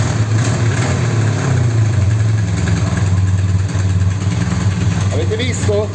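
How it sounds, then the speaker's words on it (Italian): Motorcycle engine started with a Lidl Parkside jump starter, a loud steady idling rumble running throughout, with someone talking over it near the end. "Proviamo a vedere se adesso la moto riusciamo a farla partire."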